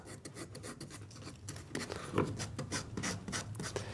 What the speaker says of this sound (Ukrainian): грубшою наждачкою, це 150-ка